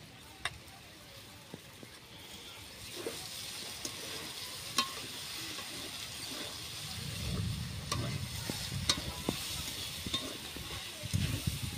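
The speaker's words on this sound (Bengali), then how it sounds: "ভালোভাবে মাখিয়ে নিচ্ছি। ভালোভাবে সব কিছু ভাজা হয়ে গেছে।" Roti dish with cucumber being stirred and fried in a pan, a steady sizzle with scraping stir strokes and occasional clinks, growing denser and louder toward the end.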